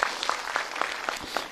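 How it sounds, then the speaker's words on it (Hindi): Audience clapping at a spoken religious gathering, a short, moderately loud patter of hands with steady rhythm, no talk over it. "बहुत सुंदर, एक बार ताली बजाओ"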